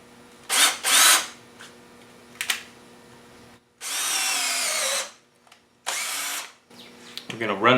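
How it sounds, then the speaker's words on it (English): Power drill boring a pilot hole for a lag screw through clamped wooden boards of a garden gate arch, in several loud whirring bursts separated by short pauses and quieter handling noise. "Then we're going to drill a pilot hole for our lag screw."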